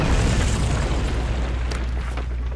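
An explosion in the video game We Happy Few booms out loud and heavy, then the rumble decays over a couple of seconds with some faint debris-like crackles, no voices.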